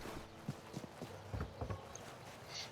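Horse hooves clop at an uneven walking pace in the video game Tainted Grail: Fall of Avalon, a handful of soft thuds close by with a faint background hum.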